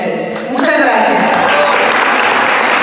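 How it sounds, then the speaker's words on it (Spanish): Loud, sustained audience applause fills a beauty pageant hall in Ciudad del Maíz, a dense wash of clapping that swells after a brief softer start and holds steady, with an announcer's voice over it. "El aplauso fuerte, fuerte."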